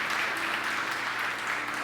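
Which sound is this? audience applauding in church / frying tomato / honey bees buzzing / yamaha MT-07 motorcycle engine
audience applauding in church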